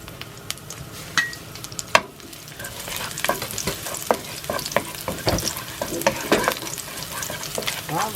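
Garlic frying in hot cooking oil for Filipino sweet and sour pork with pineapple, a steady close sizzle broken by sharp clicks and scrapes of a utensil stirring in the pan, with no talking.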